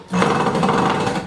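A power screwdriver buzzes loudly and steadily for about a second after a brief pause, a close, gritty motor whir as it drives a screw into flimsy wood of a student desk.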